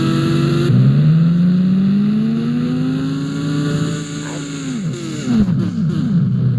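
Motorbike engine in the mobile game Indian Bike Driving 3D, a loud continuous drone whose pitch rises steadily, dips, then climbs again in short revving bursts, with no talk over it.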